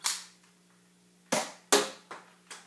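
A Nerf N-Strike Elite Firestrike blaster fires several times, each a sharp snappy pop with a brief decay, with a long pause after the first shot and then a quicker run of three close, fairly loud shots.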